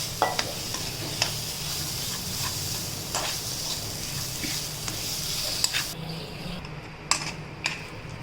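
A mashed potato snack mixture is stirred in a bowl with soft, steady scraping and mushy rubbing. A few light taps and clinks of the utensil against the bowl's edge punctuate the sound.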